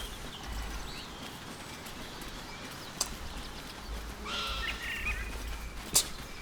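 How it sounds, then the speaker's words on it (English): In the video game Baldur's Gate 3, a bird lets out a few shrill, whistling calls over a low ambient rumble, with a couple of sharp clicks and one louder, scream-like cry near the end. "That bird sounded like someone was screaming by."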